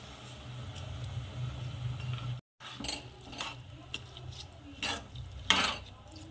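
Matar pulao rice with peas being gently stirred in a pot, soft scraping and light clinks of a spoon against metal recurring through the stretch, with a brief pause midway.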